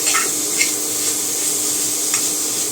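Quiet, steady sizzling as a poppy seed and jaggery filling is stirred and roasted in a pan, with a few soft scraping scrapes of the spoon.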